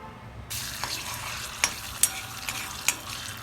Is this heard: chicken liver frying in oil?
yes